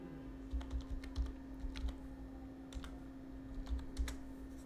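Keystrokes on a computer keyboard in irregular bursts of clicks, close and moderately loud over a steady electrical hum, with no talking.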